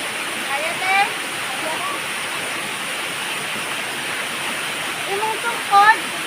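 Steady roar of a waterfall at Banayan Falls in Davao Oriental, a dense broadband rush running throughout with a few faint bird chirps and brief vocal sounds over it.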